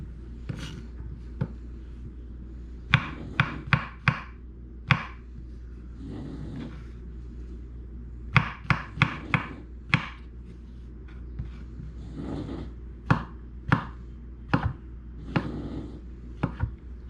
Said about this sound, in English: cut my mushrooms into slices